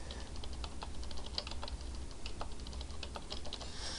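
Rapid typing on a computer keyboard as a long number is entered, a steady run of close, crisp key clicks with no talking.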